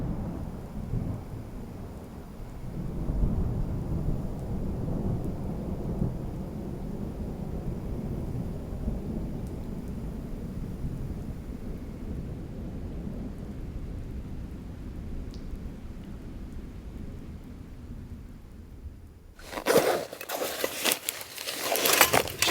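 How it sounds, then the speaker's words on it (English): Thunder rolls through a violent Colorado storm at a campsite, a long low rumble building and sustained for many seconds, followed near the end by a sharp, loud crackling clap close by. "I've been hearing thunder for the last hour or so"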